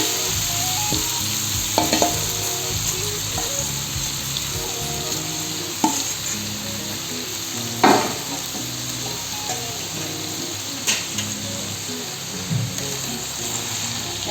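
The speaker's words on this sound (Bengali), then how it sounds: "এখন আমি কাঁঠালগুলো ছেড়ে দিচ্ছি।" Jackfruit pieces dropped into a pan of already fried onions sizzle steadily for the whole stretch, with occasional sharper clicks and scrapes from stirring, and no one talking.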